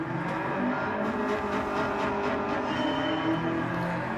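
Porsche 356 Carrera Speedster from 1956 driven on the Goodwood track in a racing game, its engine holding a steady, loud, continuous drone throughout, close and alone.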